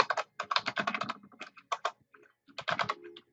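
Rapid typing on a computer keyboard, quick clustered keystrokes in bursts with short pauses, close and clear with no talking.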